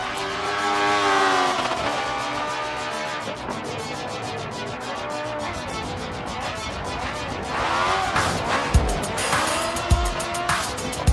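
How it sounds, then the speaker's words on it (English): Radical Mini LMP race car driving hard on the Daytona circuit during a race event, its engine roaring loud and continuous with shifting pitch and brief tire squeals near the end, alone without talk. "we have Surfrat for Racer's Edge driving the Radical Mini LMP car. This is the fastest car on the circuit today."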